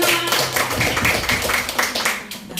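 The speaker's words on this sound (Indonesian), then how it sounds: "Baik, tepuk tangan dulu untuk itu teman-teman." A classroom group of teachers or students gives brief, moderately loud applause, a dense patter of many hands clapping steadily with no speech over it.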